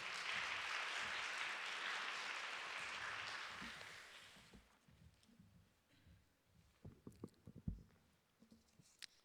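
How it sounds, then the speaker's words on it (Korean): A church congregation gives a visiting pastor a warm round of applause, a dense wash of many hands that fades out after a few seconds into quiet shuffling and scattered small knocks. "우리 큰 박수로 목사님 환영하겠습니다."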